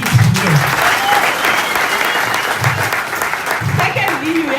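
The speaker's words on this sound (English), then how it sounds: "clap hands for yourself for making it here" An audience at a seminar claps and applauds, a dense, steady burst of many hands that carries on through the whole stretch, with a voice heard over it.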